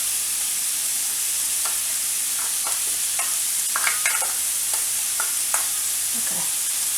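Bacon and corn sizzle steadily in a hot pot with a bright, constant hiss, broken by occasional scraping stir sounds and small pops.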